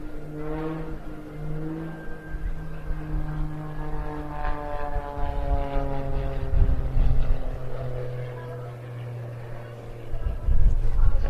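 A propeller aerobatic display plane at the Bournemouth Air Festival holds an inverted flat turn, its engine a loud, steady droning tone whose pitch slowly bends and shifts as it swings through the turn.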